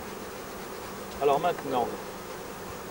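Honeybees hum around beehives in a steady, soft buzzing drone close by, while a voice briefly speaks over the middle.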